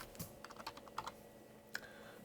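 Keys tapped on a Bluetooth computer keyboard, a quick irregular run of light clicks with a few sharper strokes, close and fairly quiet, no voices.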